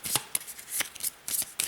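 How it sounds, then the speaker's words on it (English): Supplemental game cards for a solo wargame are shuffled up close in several quick riffling bursts separated by short pauses, with no talking. "We'll give these another shuffle."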